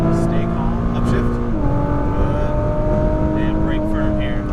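A car engine at full throttle roars steadily and loudly with sustained harmonic whine, pitch shifting slightly as it pulls, the strained drone continuous throughout.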